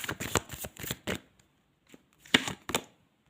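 Tarot cards shuffled by hand in a few quick riffling bursts, close and fairly loud, separated by a short pause.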